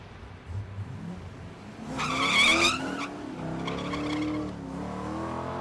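Two drag race cars, one a BMW, launch side by side down a drag strip at Thunder Valley in Noble, Oklahoma, with tire squeal and loud engines revving hard before fading down the track.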